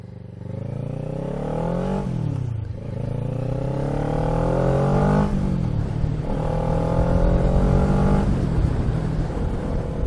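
A motorcycle with an Akrapovic aftermarket exhaust revs up through the gears, the pitch rising and dropping with each shift, loud and close with wind rush.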